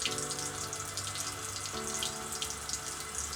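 A bathroom sink tap runs in an even, continuous stream for a few seconds, close and moderately quiet, with no talking.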